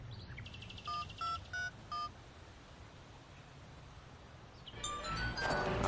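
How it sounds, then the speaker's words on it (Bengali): A telephone number is dialed on a phone: four distinct tone beeps in a steady rhythm, followed by a brighter ringing burst of tones, close and clear over a quiet room hiss with no talking. "একটু ফোন দিয়ে দেখি তো।"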